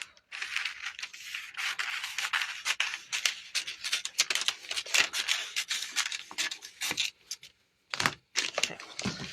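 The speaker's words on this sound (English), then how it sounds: "Let's see if I have paper scissors." Paper scissors snipping through Heat and Bond Featherlight fusible web backing for raw edge machine applique, a steady run of close, crisp cuts and crinkles with short pauses near the end.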